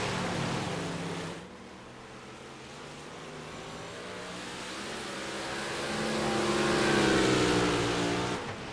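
Dirt-track race cars at Williams Grove roar around the oval, one engine note dropping off and then swelling again as the cars pass close by, loud and steady with no talk.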